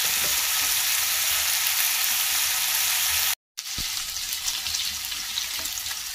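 Ten chopped green chillies frying in hot oil, a loud continuous close sizzle that cuts out briefly midway and then resumes with a small knock.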